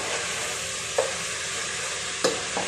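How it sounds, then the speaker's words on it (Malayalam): Chicken marinated with chili, turmeric, salt and garam masala fries in a pan with a steady, even sizzle, broken by a couple of sharp utensil clicks. "ഞാനിത് ചിക്കൻ പൊരിക്കാൻ വെച്ചതാട്ടോ."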